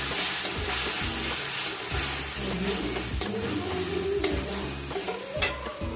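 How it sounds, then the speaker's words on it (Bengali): Spice paste of ground coriander, chilli, turmeric and ginger fries in oil with a dense, continuous sizzle and hiss, with a few sharp clicks of utensils against the pan and a low background hum, no voices. "দিয়ে সব মশলা গুঁড়ো মশলা দিয়ে এটাকে মিক্সড করে তেলের উপর দিয়ে দেব"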